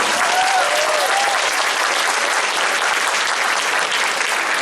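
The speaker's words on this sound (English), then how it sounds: "How about a big round of applause for these wonderful young musicians?" A concert audience applauds young string musicians from school orchestras, a dense, loud, steady wash of clapping that fills the whole stretch without letup.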